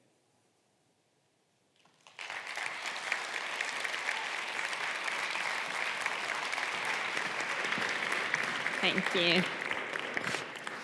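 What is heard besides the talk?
applause for Steffen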